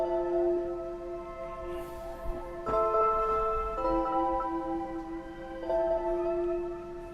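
A bell-like synth pad from the Omnisphere Bell Sonics patch plays a sustained chord progression, shimmering held chords shifting a few times, alone without talk.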